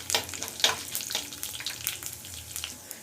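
Urad dal and chana dal frying in oil in a pan for a banana flower palya, giving a steady close sizzle with crackling pops and a few louder spits, no voices.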